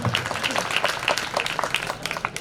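An audience at a Hindi poetry recital (kavi sammelan) claps in a dense burst of hand claps, fairly close and loud, with a voice faintly mixed in.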